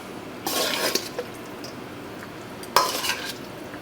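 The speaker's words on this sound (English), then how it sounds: "Let me just stir this around." A spoon stirs chicken and dumplings in a tight pot filled to the brim, two short bursts of wet scraping and sloshing separated by a quiet pause, close and fairly loud.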